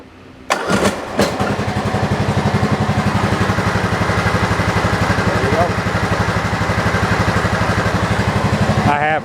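A freshly installed engine on a John Deere 225 zero-turn mower, warmed up and set to slow idle without choke, catches and then runs with a steady, close pulsing throb for several seconds before cutting off at the end.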